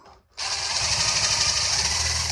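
A power drill spins up after a brief pause and keeps whirring, its bit grinding steadily into a stripped wood screw hole without being pushed in, loud and close.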